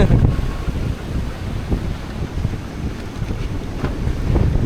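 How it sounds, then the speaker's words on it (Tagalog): Strong wind buffets the microphone on a beach, a constant low roaring rumble with surging gusts and surf mixed in, no voices. "Ay, ang lakas ng hangin."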